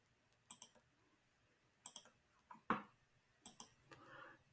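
Mouse clicks while plotting the endpoints of a cam curve in design software for an automaton: about six sharp, close clicks, single and paired, with short quiet gaps between them and no talking.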